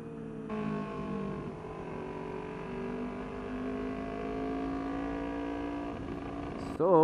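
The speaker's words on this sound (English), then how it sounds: "here we go, warming up the bikes" Kawasaki Ninja 400 and Yamaha R3 sport bikes idle as they warm up, a steady low engine drone that shifts pitch slowly, ending with a brief louder rev.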